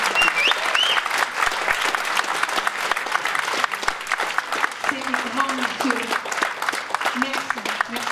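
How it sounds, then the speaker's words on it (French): An audience at a philosophy event in Tarbes applauds the volunteer guests with sustained, dense clapping, while a voice briefly speaks over it partway through. "je vous demande de les applaudir"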